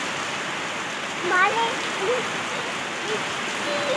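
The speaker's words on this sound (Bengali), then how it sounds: "বাইরে পড়ছে বৃষ্টি" Rain falls outside in a steady, even hiss that continues throughout, with faint voices just audible in the background.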